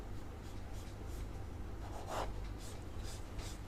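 Pen or marker scratching across paper while a math solution is worked out by hand, a soft continuous rubbing and scraping close by, with one slightly louder stroke midway and no talking.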